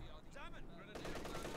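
Machine gun fire in the Company of Heroes 2 strategy game sounds as a dense rattling burst that kicks in partway through, following a quieter stretch with a voice.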